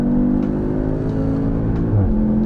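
A 2023 Audi TTS with its EA888 engine growls under acceleration, a loud, steady drone from inside the car with rising tonal harmonics and a brief shift-like dip near the end.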